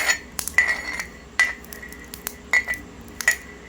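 Peanuts being tipped into a metal pan for roasting, a handful of sharp clinks and rattling taps spaced irregularly, close and fairly loud against a quiet background.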